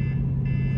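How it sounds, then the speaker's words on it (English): Parking sonar alarm on a 2023 Dodge Demon 170: a steady, fairly loud electronic tone sounds alone, with no talking, and holds for under a second. "we got sonar alarms going off."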